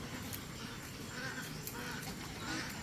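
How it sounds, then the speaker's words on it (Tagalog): Farm ducks quack faintly in a flock at a distance, a soft overlapping chorus of calls over steady outdoor background noise. "Ayan, mga itik."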